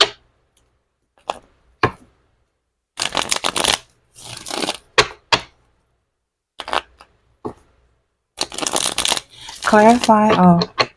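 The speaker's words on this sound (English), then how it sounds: "So let's go ahead and shuffle the clarifiers with the tarot." Tarot cards are shuffled in several separate bursts of crisp riffling and sliding, close and loud, with a voice speaking near the end.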